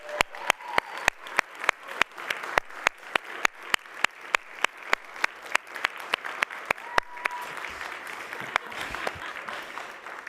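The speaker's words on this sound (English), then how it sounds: "please let's just give them a big round of applause" An audience at a disarmament forum applauds the volunteers, loud individual claps close by in a quick, regular rhythm over a broader crowd clapping that thins out toward the end.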